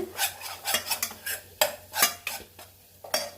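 A spoon stirs mango pickle with asafoetida in a pan, making about a dozen uneven scraping and clinking strokes with a faint sizzle underneath, close and with no voices.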